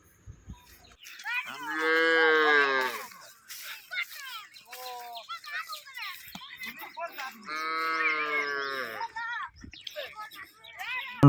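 Cows on a riverbank during the Goru Bihu cattle festival moo loudly and nearby, with two long drawn-out lows separated by shorter grunting calls.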